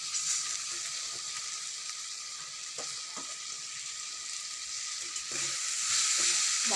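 Kohila leaves frying in a pan with turmeric and salt, a steady loud sizzle throughout with occasional soft clicks of stirring, no voices.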